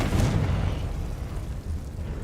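Low rumbling explosion from a Confringo spell in a Harry Potter style video game, a dull boom that fades into a lingering murky rumble.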